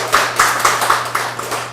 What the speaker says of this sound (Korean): 우리 박수 좀 한번 해주시기 바랍니다.